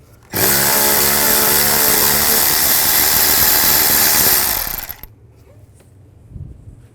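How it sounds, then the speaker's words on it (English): 10mm bolts come off a 2005-2015 Nissan Xterra driver-side valve cover with a 10mm socket: a loud, steady mechanical whir runs for about five seconds close up, then cuts off into near quiet. "Use a 10mm socket, take those out."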